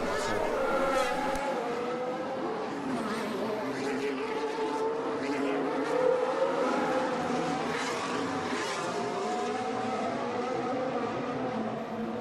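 Formula 1 cars lapping at Monaco during Grand Prix practice, a continuous high engine whine rising and falling close by, with a commentator's voice talking over it.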